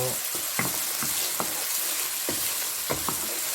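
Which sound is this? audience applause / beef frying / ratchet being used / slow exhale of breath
beef frying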